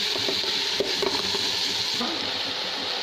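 Mixed vegetables are stirred in a pan before macaroni goes in, giving a constant bright sizzle with faint scrapes and light clinks of the utensil, and no one speaking.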